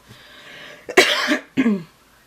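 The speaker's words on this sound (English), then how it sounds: "Have you noticed, like, in every video that I do now, I cough?" A close, loud double cough, two harsh bursts a moment apart, with a faint breath before them and no talking.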